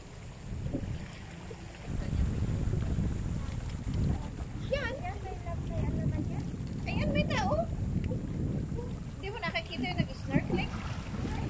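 Steady wind rumbles and buffets outdoors on Pak Sha Chau Island, Hong Kong, with voices speaking intermittently over it.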